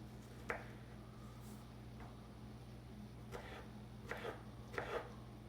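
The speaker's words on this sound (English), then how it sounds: "And cut these little strawberries." A knife slicing small strawberries on a cutting board in a home kitchen, a few sparse soft cuts and taps spaced out over a quiet steady hum.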